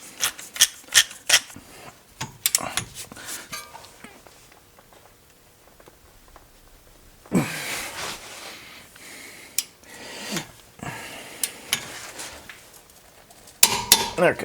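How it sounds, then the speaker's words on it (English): A torque wrench and ratchet click in sharp, quick metallic bursts while tightening front brake bolts to 79 ft-lb on a 2015 Toyota RAV4 Limited. Clusters of taps and clicks come in the first few seconds and again later, with quiet gaps between. "So got my torque wrench, and I'm gonna set it to 79 pounds."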